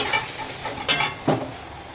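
Food fries lightly in a pan after red chilli powder is added, giving a steady soft sizzle close by, broken by two brief scraping stirs.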